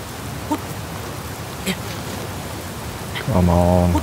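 In Zelda: Tears of the Kingdom, steady rain hisses throughout, broken by a few brief clicks before a louder tonal game sound rises near the end.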